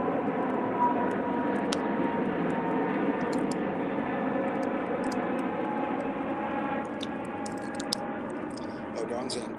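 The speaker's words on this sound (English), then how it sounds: "Another aeroplane." An aeroplane passes overhead outdoors, a steady broad roar that holds at an even level throughout, with faint scattered high ticks and chirps above it.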